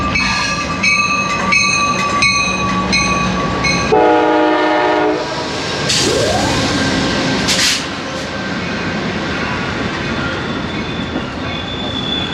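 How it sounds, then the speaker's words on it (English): Passenger train arriving at a station: a loud horn blast, rumbling wheels and clickety-clack, then squealing wheels as it slows, all close by. "so here's our train. We'll be getting on in just a second."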